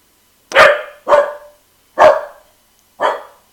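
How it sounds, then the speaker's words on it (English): Small dog barking in four sharp, separate barks, close and fairly loud, with short silences between them. "Settle down, little dog."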